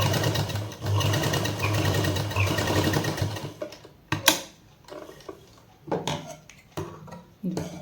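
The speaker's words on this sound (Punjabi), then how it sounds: "ਸਿਰਫ ਕਿਨਾਰੇ ਦੇ ਉੱਪਰ ਸੀਨ ਲਾਉਣੀ ਆਪਾਂ ਨੇ" A sewing machine runs a seam along the neck edge of a kameez, a close rapid mechanical chatter for about three and a half seconds, then stops, leaving scattered clicks and handling knocks.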